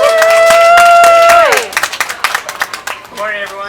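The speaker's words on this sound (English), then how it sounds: "Let's give a huge round of applause and welcome Chef Isaac from Maven." A crowd at an outdoor farmers market celebration claps and cheers to welcome a chef, a short scattered burst of applause over a loud sustained tone, with a voice heard near the start.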